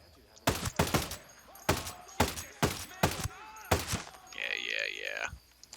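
G28 rifle fire in Ghost Recon Breakpoint, about seven sharp separate shots spaced under a second apart, followed by a warbling electronic tone.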